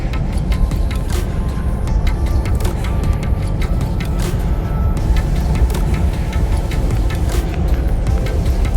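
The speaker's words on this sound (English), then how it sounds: "Once you get on the highway, you shift up, you make your way up to 5th gear, like I'm about to do." R50 Nissan Pathfinder 4X4 cruising on a highway with a manual gearbox being shifted up into fifth, giving a steady loud engine and road roar throughout with no clear break for the shift.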